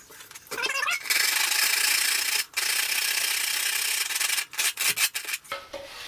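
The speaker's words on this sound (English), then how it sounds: "So let me grab the sandpaper." Sandpaper rubbed by hand against a part during a DIY leak repair, with long, loud, close gritty strokes, a brief pause, then shorter choppy rubs toward the end.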